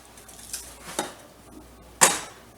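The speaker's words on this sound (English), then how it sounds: "I'm going to cut up my green onions" Green onions being cut with a knife in a home kitchen: three sharp, close knocks of the blade on a board, spaced about half a second apart with brief quiet between them.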